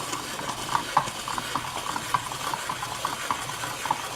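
A Brieftons QuickFold 5-blade spiralizer works through vegetables with soft, repeated cranking clicks and scraping cuts in a loose rhythm, close and fairly quiet, without any voices.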